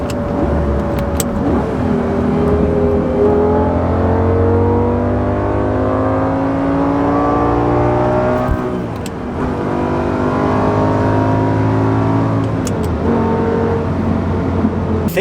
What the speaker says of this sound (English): And the sound that V10 makes, you guys know I have a 350 and I love the sound of the 350, but it's nothing like a V10.